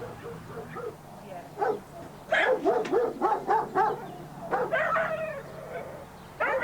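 A retired racing greyhound barks and yips in a burst of repeated sharp calls with whimpering notes, close and moderately loud against a quiet room background.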